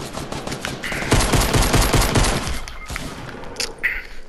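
Rapid bursts of gunfire from a Fortnite match, a dense rattling volley that loudly fills the first half and then thins into a few sharper scattered shots.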